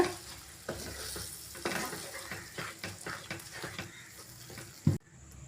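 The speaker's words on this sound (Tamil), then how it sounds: "இப்போ நம்ம வறுத்து அரைச்ச மசாலாவை சேர்த்துடலாம். கலந்து விட்டுக்கோங்க." Ground masala sizzling in a frying pan for chicken gravy, with steady stirring and scraping, a few sharper knocks of a utensil against the pan, ending in a loud clatter before quiet.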